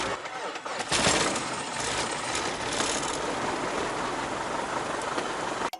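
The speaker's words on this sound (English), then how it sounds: "Okay, as the engine warms up, the RPM is going to start to come up." A small propeller airplane engine idles just after start-up, a loud, steady, dense roar that holds unbroken close by for the whole stretch before cutting off abruptly at the end.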